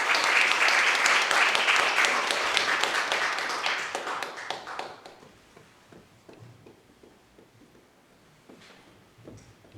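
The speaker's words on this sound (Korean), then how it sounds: "두 번 우리가 큰 박수로 모시겠습니다." Loud audience applause welcoming a lecturer and his interpreter at a church teaching session, dense for about five seconds before thinning into scattered claps and quiet.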